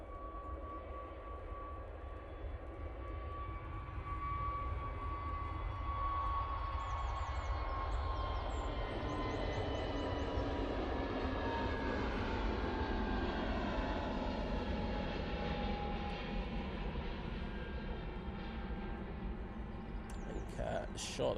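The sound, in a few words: easyJet jet airliner on its takeoff roll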